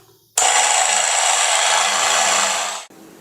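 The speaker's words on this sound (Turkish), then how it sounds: "Şimdi yumurtamızı ve şekerimizi krema kıvamına gelene kadar çırpmaya başlayalım." Electric mixer whipping eggs and sugar to a creamy consistency for a coffee latte cake, a loud steady whir starting abruptly and running about two and a half seconds before cutting off, close and alone.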